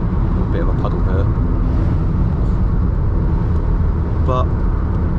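Inside a 170,000-mile Toyota MR2, a constant loud low road rumble and tire roar fills the cabin, with brief splashy bursts from a puddle and someone talking over the noise.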